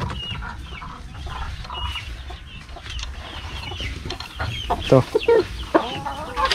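Kabir free-range chickens cluck and squawk close by, busy and intermittent, growing louder toward the end, with a person speaking briefly among them.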